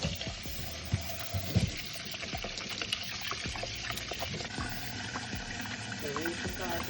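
Cold tap water runs over boiled meat in a pot or sink, a soft, close splashing and trickling with a few clunks of the pot, while a voice talks over it.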